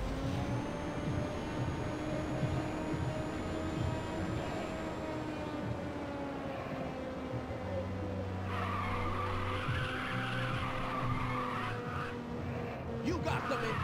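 Tires skid and squeal through a corner in the racing video game Ridge Racer 2, a sustained screech laid over a steady, loud engine drone with a shift in pitch partway through.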